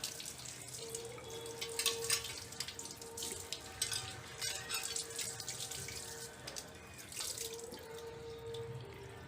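Tap water runs steadily into a sink while a pre-seasoned cast iron tawa is rinsed and washed, with faint splashing and dripping under the flow, heard up close with no voices.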